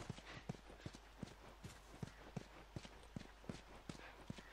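Horse hooves clip-clopping in the video game The Last of Us, a steady run of distinct hoof beats over a constant low background hum, fairly faint and without talk.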